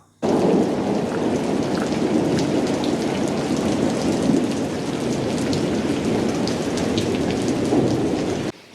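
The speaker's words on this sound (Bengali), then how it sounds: "বৃষ্টি যত না পড়ছে তার চেয়ে বেশি দমকা হাওয়া" A night storm with heavy rain hammering a surface, gusty wind and rolling thunder, a dense continuous roar that starts and stops abruptly, with no voices.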